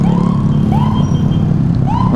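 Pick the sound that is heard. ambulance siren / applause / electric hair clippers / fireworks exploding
ambulance siren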